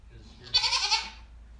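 A newborn baby goat, one of triplets, lets out a single high, wavering bleat close by, lasting about half a second.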